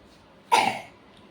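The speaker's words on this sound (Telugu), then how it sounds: "అమ్మో అక్క ఇప్పుడే దగ్గుతుంది" A girl gives a single short cough at home during a family Rakhi festival gathering, close and clear against a quiet room.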